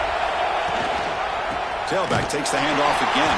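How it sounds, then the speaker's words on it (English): A fired-up football stadium crowd roars as a steady wash of noise while a commentator speaks over it in the second half. "It's early, but this crowd is fired up. Listen to this noise here."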